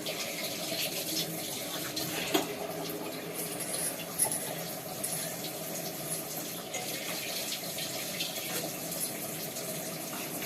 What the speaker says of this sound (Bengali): দেখো জল পড়ছে এখান থেকে পাইপ দিয়ে